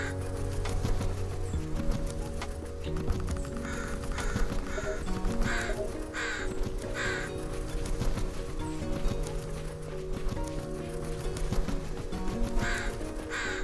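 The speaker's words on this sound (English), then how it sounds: "So there seems to be crows just kind of everywhere." Crows caw repeatedly in the video game Spirittea, loud rhythmic calls in bursts over a continuous layered game music and ambience bed.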